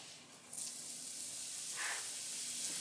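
Leek hitting hot turkey lard in a pan, a soft sizzle that swells after a quiet start and settles into a faint, steady hiss, with no talking.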